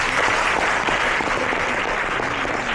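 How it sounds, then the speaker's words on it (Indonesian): A convention audience breaks into strong, sustained applause, a dense crackle of many hands clapping at an even level throughout, with no speech on top. "Tepuk tangan."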